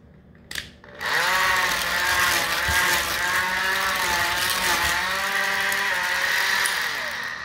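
A cordless hand mixer whisks cream to stiff peaks, producing a loud, steady motor whine with a slightly wavering pitch. It runs continuously for over six seconds after a brief click at the start, with no talking.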